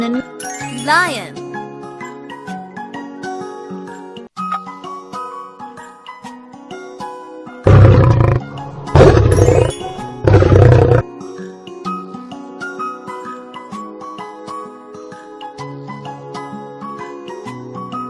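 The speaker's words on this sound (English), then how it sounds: "Lion." A lion gives three loud, rough roars in quick succession midway through, each a broad burst rising well above light, tinkling background music.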